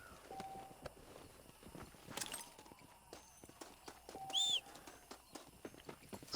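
Light hoof clops from a wild horse walking in the video game Red Dead Redemption, uneven steps with a brief whinny-like squeal partway through, over a soft ambient background.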